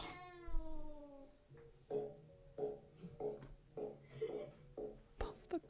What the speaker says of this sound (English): we got a cat video